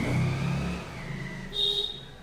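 A car pulls away fast with a loud, revving engine that rises and then fades as it leaves, heard alone without talk over a short stretch.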